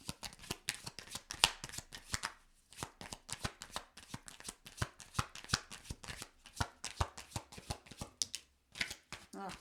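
Tarot cards being shuffled by hand, a continuous close run of soft riffling flutters and taps, with a short pause midway and quiet talk in places.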